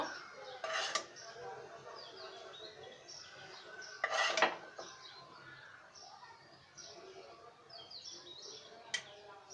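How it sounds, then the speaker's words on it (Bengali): Utensils clink against a serving plate as potol peyaji, a pointed gourd and onion dish, is served out: a few sharp scrapes and taps spread over the clip, with faint birdsong and a low background murmur. "আমাদের যে পটল পেঁয়াজিটা আমাদের সার্ভিং প্লেটে আমরা বেড়ে নিব"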